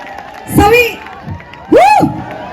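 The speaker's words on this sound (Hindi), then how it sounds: "मैं चाहूंगी सभी बच्चों के लिए जबरदस्त तालियां हो जाएं." Crowd at a marathon in Narnaul cheering and whooping for children, with two loud bursts of shouting voices rising over a steady background murmur.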